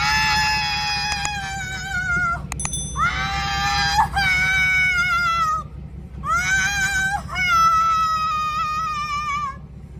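A woman screams repeatedly over her car being towed, long piercing wails in three bursts with short gaps, loud and close, over a steady low background hum.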